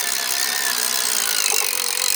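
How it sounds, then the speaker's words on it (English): A power drill works hard during a fishing boat build, giving a steady, high-pitched motor whine under load that holds fairly loud and close through the short stretch. "Curious if the drill's up to the task"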